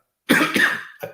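A single person coughs twice in quick succession, close and fairly loud, followed by a brief softer throat sound.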